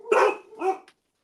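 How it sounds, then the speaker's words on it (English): A dog barks twice in quick succession indoors, loud and close, with a short trailing yip after; no talking during the burst. "My dog's going crazy."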